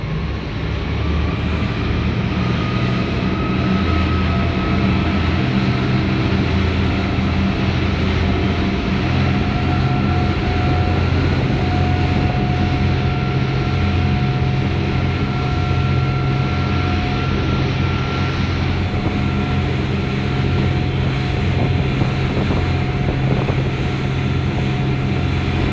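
An 11 m Air Rider custom fishing vessel cruises downwind at about 25 knots, its engines giving a loud, steady drone with a constant tonal hum and rushing water noise throughout.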